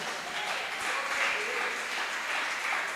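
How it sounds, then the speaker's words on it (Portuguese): A church congregation claps for Jesus during a worship meeting, producing a steady, dense wash of applause at moderate level for the full stretch, with faint voices mixed in. "Você pode aplaudir ao Senhor Jesus?"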